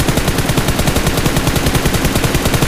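Rapid automatic gunfire from PUBG Mobile during a red dot sight test, a steady stream of loud, evenly spaced shots with no pauses and no talking.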